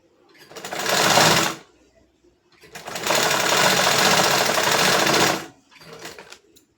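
A sewing machine stitches a garment panel in two sustained runs of rapid, even whirring, separated by a short pause, and then gives a brief final burst.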